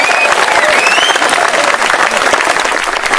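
A packed political rally crowd applauds a newly elected Member of Parliament, loud, continuous clapping with whistles and cheers riding on top throughout.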